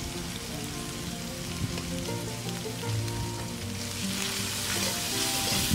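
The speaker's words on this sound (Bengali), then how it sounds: "খুব ভালো করে আমি মশলাগুলোকে কষিয়ে নিচ্ছি।" Onion sizzles and fries steadily with ginger garlic paste, turmeric, chili powder and salt in hot oil, a close, continuous crackle with faint stirring. No voices are heard.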